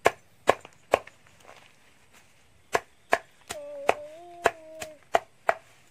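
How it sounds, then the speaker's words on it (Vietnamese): Sharp, heavy cleaver chops strike pig skin on a board in an uneven rhythm, with a brief creaky whine partway through; close and loud, no talking. "Đây là cách băm da lợn của người dân tộc Dao Tày."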